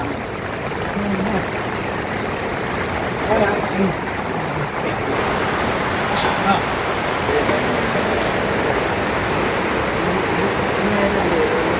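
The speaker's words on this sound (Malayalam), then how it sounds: "മഴ പെയ്ത്" Rain falls steadily in a dense, unbroken hiss. Voices murmur faintly beneath the downpour.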